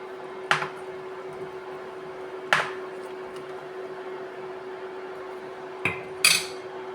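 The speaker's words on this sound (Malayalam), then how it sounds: "നന്നായി ഇളക്കാം" A spoon knocks against a metal pot while stirring curry with yogurt and ground coconut paste, sharp clinks spaced apart over a steady hum, with a brighter scrape near the end.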